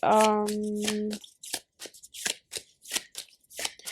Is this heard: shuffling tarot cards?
yes